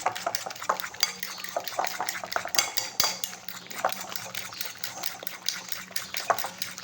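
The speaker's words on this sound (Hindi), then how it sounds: "अब हम इसे अच्छी से मिक्स कर लेते हैं दोबारा।" A spoon or fork beats omelette batter with crushed chilli and salt in a bowl, rapid irregular clinks and scrapes against the dish with a wet slosh, close and fairly quiet.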